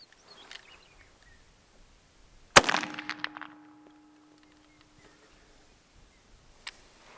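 A single sharp gunshot from an SKS rifle test fire cracks out close by and leaves a ringing metallic tail. Faint ticks and rustles come before and after it.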